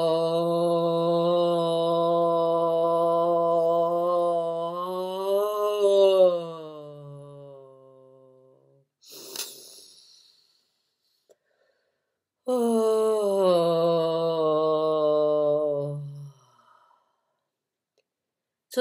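A long, held vocal exhale demonstrated as a labor contraction breathing technique: a steady voiced tone sustained for about eight seconds, a short breath, then a second held tone, close and clear.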